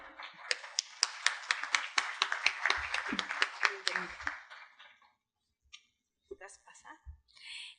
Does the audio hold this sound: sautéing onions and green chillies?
no